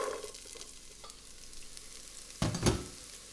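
Chopped onion dropped into hot olive oil in a pot for a squash and apple soup, a faint steady sizzle with a louder burst of frying and stirring near the end.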